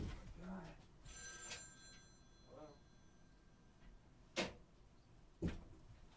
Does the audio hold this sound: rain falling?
no